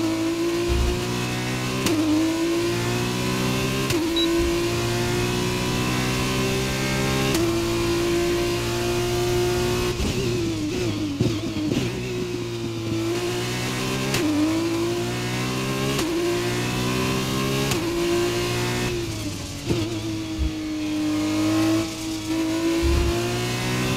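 A Renault-engined Formula 1 car in a racing video game holds a loud, steady high-pitched engine drone, dropping through slow downshifts partway through and then rising again, with no talking.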